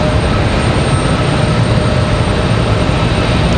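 An Alaska Airlines jet departing Raleigh-Durham International Airport for Seattle, a loud, steady broadband engine roar that fills the whole stretch without a break.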